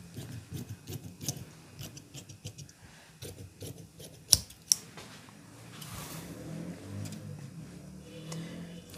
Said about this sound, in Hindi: इस तरीके से अब इसे दोस्तों थोड़ा फालतू काट लेंगे इस तरह